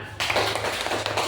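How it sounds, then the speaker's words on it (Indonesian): Clapping from students in a classroom during a science lesson on light refraction, a short burst of brisk hand claps that stops abruptly after about a second. "Oke, tepuk tangan"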